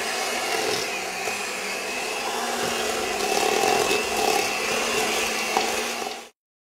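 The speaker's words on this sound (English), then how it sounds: "then I'm gonna mix that until it's well combined and it's gonna look silky" Electric mixer blending butter, sugar, vanilla and eggs for oatmeal raisin cookie dough, a steady loud whir that runs for about six seconds and then stops abruptly.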